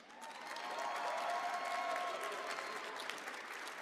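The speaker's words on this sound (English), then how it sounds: "Another huge round of applause" A crowd applauding steadily throughout at a Dragon Ball Legends tournament, sustained clapping from a distance, fairly soft and even.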